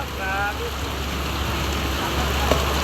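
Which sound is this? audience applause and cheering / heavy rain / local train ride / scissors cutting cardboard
heavy rain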